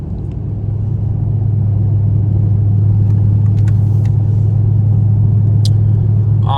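Straight-piped Chevrolet Camaro SS with its exhaust booming inside a tunnel at night: a loud, steady low rumble holds throughout, with a few faint higher clicks and ticks above it.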